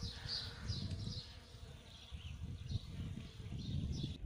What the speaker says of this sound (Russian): Слышите, как тут пчелы жужжат?